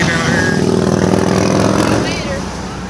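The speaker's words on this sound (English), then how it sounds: "Practicing today. I hear some cars." Race cars practicing at Indianapolis Motor Speedway in May, their engines a steady loud drone with passing whines, heard from near the front gate amid a crowd, with someone talking over it.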